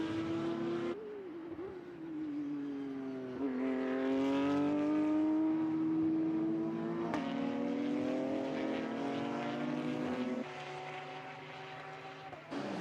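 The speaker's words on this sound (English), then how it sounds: "Here are the Mercedes GT4s scrapping away." Mercedes GT4 race cars scream past during the Shanghai 8 Hours endurance race, engines rising and falling in pitch as they accelerate and shift, several cars passing close and loud.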